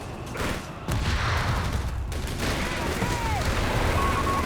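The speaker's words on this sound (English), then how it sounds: "He's barraging out the back where all those machine guns are." An artillery barrage and machine-gun fire in Company of Heroes 3, with booming impacts and rattling bursts rolling on over a steady rumble while a commentator talks over the battle.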